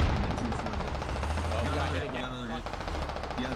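Gunfire in the military shooter game Squad Ops rattles in rapid repeated bursts, close and steady, while a commentator talks over the shooting.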